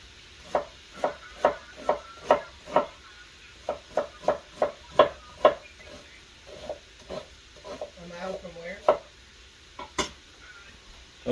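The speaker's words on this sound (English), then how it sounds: "I'm gonna then cut my onions. Get my onions and my peppers and stuff." Onions and peppers are chopped with a knife on a cutting board, giving a steady run of sharp, close knocks that slows and turns irregular, broken by a short pause.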